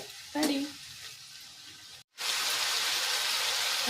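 A drumstick (moringa) stir-fry being stirred in the pan, with a scraping stir up front, a sudden short gap, then a loud, steady sizzle of frying.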